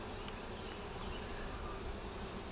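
A dense, steady buzz of many honey bees at close range during a February inspection of a hive that has swarmed, continuous and even with no voices.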